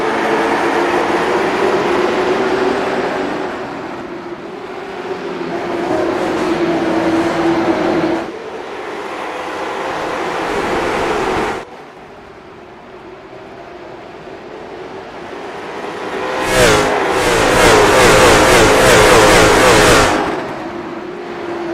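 Loud sustained roar of NASCAR race car engines at a track during a caution period, swelling and fading as the pack passes, with a sharp surge near the end and no talk.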